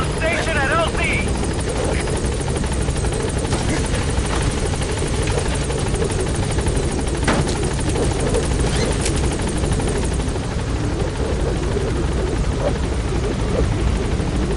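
A support helicopter in Metal Gear Solid 5 arrives at a landing zone with a constant, loud rotor thrum and engine whine that fills the whole stretch, while a radio voice speaks over it.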